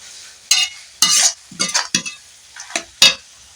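A spatula stirs spring onion greens through frying masala for a dried fish curry, making a series of separate, close, bright scraping and sizzling strokes over a quiet background.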